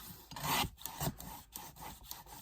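A paper trimmer slicing a photo for a scrapbooking card: a short series of close, dry scraping and rasping strokes of the blade running through paper, quiet and alone.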